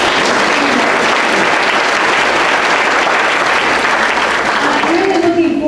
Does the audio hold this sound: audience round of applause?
yes